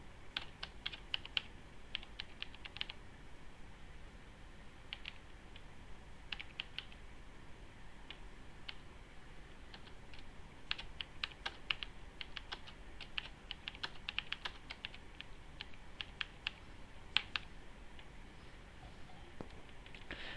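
Keys clack in quick, irregular bursts as ASP.NET page code is typed on a computer keyboard, with short pauses between runs of keystrokes.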